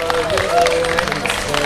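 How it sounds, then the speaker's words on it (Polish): A crowd applauds steadily for a contest winner, dense clapping filling the space while a voice speaks in Polish over it. "Wielkie brawa dla zwyciężczyni konkursu."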